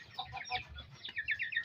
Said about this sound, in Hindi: ये देखिए मुर्गियाँ माशाल्लाह सारी कोऑपरेटिव मुर्गियाँ और चूज़ों को खिलाती भी हैं